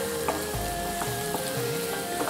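Bell peppers sizzle steadily as they sauté in a pan, with a constant frying hiss and a few soft knocks of stirring running through.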